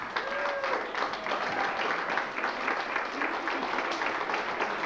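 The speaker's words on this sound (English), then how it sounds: "How about a round of applause for Seth, ladies and gentlemen?" Wedding guests at a best man speech break into steady applause, a dense wash of many hands clapping close by, with faint voices mixed in underneath throughout.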